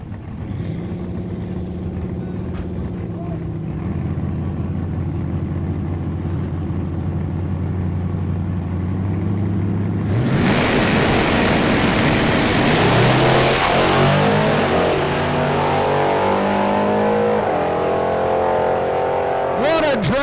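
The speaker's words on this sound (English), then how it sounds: "Wow, what a drag race that was. Side by side all the way down now." E85-fuelled trucks drag racing side by side at Newport Raceway in a no-prep event: engines idle and build, then roar loudly in full acceleration as they launch and pull away, with an announcer talking throughout.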